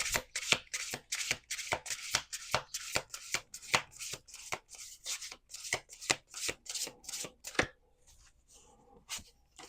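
Deck of oracle cards shuffled by hand in quick, rhythmic riffling bursts, close and crisp, ending in a few soft shuffles and a near-quiet stretch.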